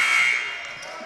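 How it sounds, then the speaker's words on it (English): A loud, harsh electronic buzzer blares for about a second in a youth basketball game, sustained and fading slightly at the end. "they inbounded the ball, the buzzer went off, and all the players stopped"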